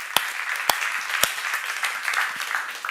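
An audience applauding together at a church seminar, a sustained wash of many hands clapping with a few sharp louder claps standing out, heard at moderate distance in an indoor hall.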